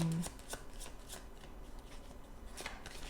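Tarot cards shuffled by hand before a love reading, a soft riffling rustle with a few sharper card flicks in quick succession, close and fairly quiet with no talking.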